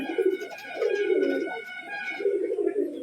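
A female pigeon coos up close, several soft throaty rolling calls in a loose repeating rhythm, with no talking.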